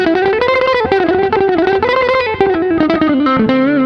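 A distorted electric guitar rips through a fast blues lick with every note picked, a dense, continuous run of notes, loud and close with no voices.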